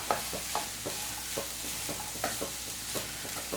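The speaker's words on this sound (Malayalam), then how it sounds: "അതിനുശേഷം നല്ലപോലെ അങ്ങനെ മിക്സ് ചെയ്ത് കൊടുക്കാം." Beetroot and cooked chickpeas stirred in a pan for a home-style lunch, a spoon scraping in a steady rhythm of regular strokes over a soft, constant sizzle, close and moderately quiet with no talking.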